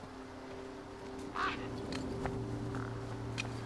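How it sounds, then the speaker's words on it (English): Birds in the video game Beyond a Steel Sky give a few scattered, fairly quiet quacks over a steady hum of background game ambience. "You see all these birds all over the place?"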